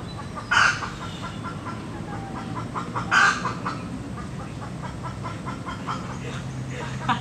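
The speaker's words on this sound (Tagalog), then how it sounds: "May manok!" A chicken clucks and squawks in two sharp bursts amid background noise, with faint voices and movement around it.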